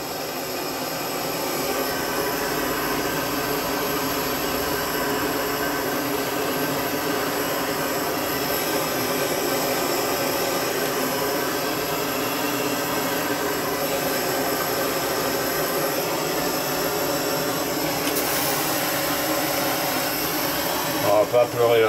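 A torch flame heats copper for a homemade mallet, giving a loud, steady, close roaring hiss that runs unbroken throughout, with a few brief clatters near the end.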